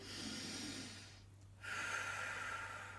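A slow, steady exhale of breath, soft and close, fading into a brief quiet pause before breathing resumes.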